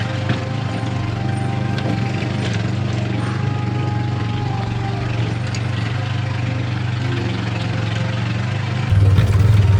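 A tuk-tuk engine labouring in first gear on a road in Minas Gerais, Brazil, a loud continuous low drone that holds steady throughout and swells slightly louder near the end, with no voices.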